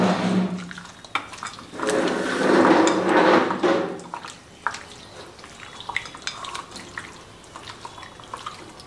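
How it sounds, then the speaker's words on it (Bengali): Raw chicken being mixed by hand with mustard, poppy seed and spice powders in a bowl, wet squelching and slapping that swells midway, then scattered soft clicks and taps. "আমরা এটাকে সুন্দর করে মাখছি।"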